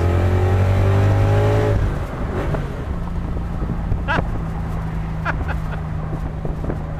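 A Coyote-engined car with a balanced Griggs exhaust revs loudly with a deep note, then eases off and settles into a steady lower rumble as it shifts through the gears.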